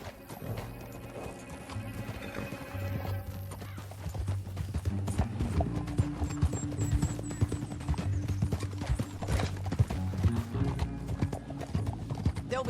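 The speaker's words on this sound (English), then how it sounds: "Back on your horse. Let's get after them." Horses galloping in Red Dead Redemption 2, rapid rhythmic hoofbeats pounding steadily throughout, with a whinny and a low sustained game score underneath.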